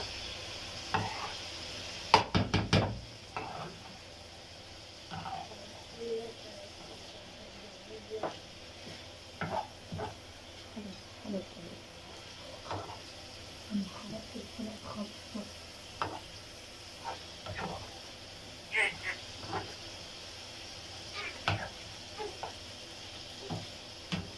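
Meat and garlic sizzle in a hot pan with pepper and blended vegetables for lentil stew, steady frying crackle, punctuated by repeated scrapes and clinks of stirring throughout.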